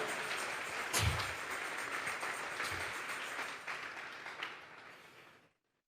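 A church congregation at a Sunday service applauding, a steady wash of many hands clapping that carries on and fades out near the end, with no voices over it.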